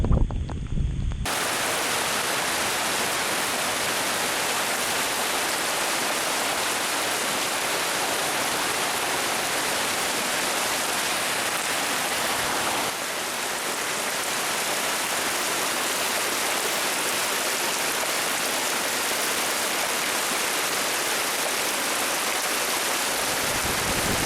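Cold fresh water pouring down like a shower on a desert island, a dense, steady hiss of falling water heard close and loud for the whole stretch, with no voices.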